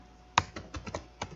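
Quick keystrokes on a computer keyboard: a sharp first click followed by a handful of lighter, uneven taps in a short burst, close and fairly quiet.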